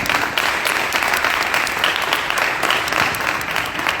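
An audience applauds at a live radio station event, dense and steady clapping from many hands filling the room at close range without pause.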